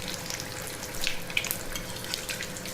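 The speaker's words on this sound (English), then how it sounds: "let it fry about 15-20 seconds, let that thing puff up" Luchi, a Bengali puffed bread, frying in hot oil: a soft continuous bubbling sizzle with a few brief crackling bursts, close and moderately quiet.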